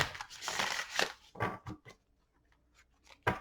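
Tarot cards riffle and slap together in brief bursts of papery shuffling, a few separate flurries with short pauses between them, close and fairly quiet.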